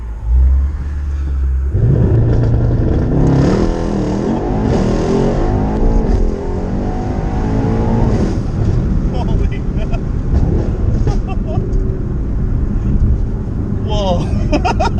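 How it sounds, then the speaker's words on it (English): A tuned 2018 Mercedes-AMG E63 S with blow-off valves accelerates hard, its loud engine roar climbing through the gears from inside the cabin, with whooshing valve releases and people talking and exclaiming over it. "I have blow off valves too, so that's kind of like what you're hearing"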